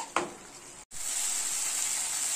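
A ground paste of chilli, cashews, tomato and melon seeds fries in a pan for chhana kofta curry, giving a steady bright sizzle with a brief stirring scrape at the start.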